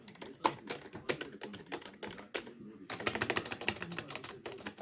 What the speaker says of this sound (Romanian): Deci aici avem o tastatură Scorpion de la KM